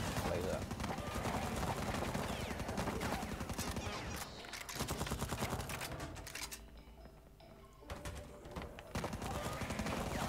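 Rapid laser gun fire in the Zombieland video game, a dense stream of repeated shots that runs almost continuously with brief pauses, loud and close, while players talk over it.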